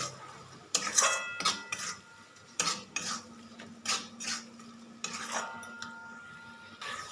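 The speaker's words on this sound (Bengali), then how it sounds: "এবার মশলাগুলোকে সব একসাথে কষিয়ে নেব" A spoon scrapes and clatters against a pan as a spice masala is stir-fried over a medium flame for a pangas fish kalia, with a light sizzle underneath. The metallic knocks come close and loud in irregular bursts.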